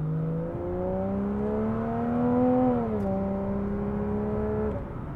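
Porsche Cayman 987 S with an aftermarket loud exhaust, valves closed, pulling a full acceleration in second gear; a steady, rising engine drone climbs in pitch, dips briefly at a shift-like break, then keeps building, loud and close with no talking.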